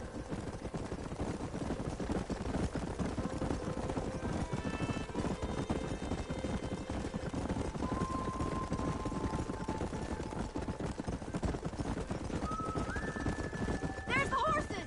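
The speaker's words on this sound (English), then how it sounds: "There's the horses!" Horses in Red Dead Redemption gallop as a steady clip-clop under continuous talk between characters, with occasional whinnies and other game sounds layered over the hoofbeats.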